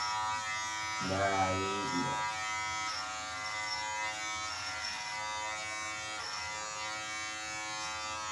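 Electric hair clippers giving a buzzcut, a steady close buzzing hum running throughout, with a brief burst of speech near the start over the motor.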